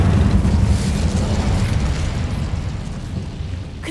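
The Incendio fire spell in Hogwarts Legacy unleashes a loud, dense roaring burst of flame that fills the whole moment and gradually eases off over about four seconds.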